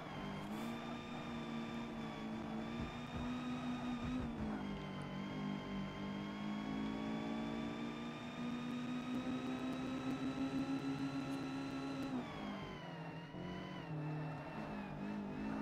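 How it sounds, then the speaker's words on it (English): A car engine in the Forza Motorsport racing game, with a buggy engine noise: a steady sustained drone held at fairly constant pitch, dipping briefly and shifting around four and twelve seconds, with no talk over it. "I think this car's actually got a little bit of a buggy engine noise as well."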